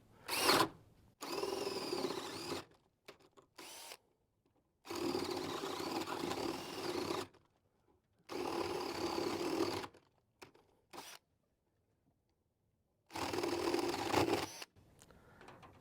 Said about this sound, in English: So wet wood does not drill well.